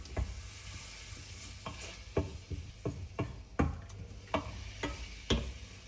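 A spoon stirring flour into a beef bourguignon, with spaced, regular knocks and scrapes against the pot over a quiet, steady background.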